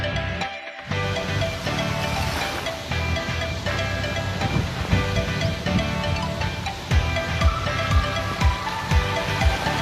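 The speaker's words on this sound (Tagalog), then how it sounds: "Dagat. Yan. Medyo maalon pero okay lang kasi hindi naman siya sobrang alon." Sea waves at El Nido, Palawan wash and hiss continuously, with fairly rough surf breaking close by and occasional heavier splashes.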